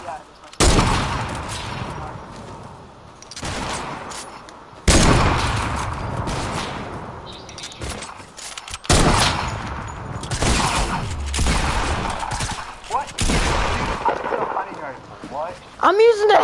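Heavy sniper rifle fire in a video game: several loud, sharp shots spaced a few seconds apart, each with a rolling echo tail, and voices talking in between.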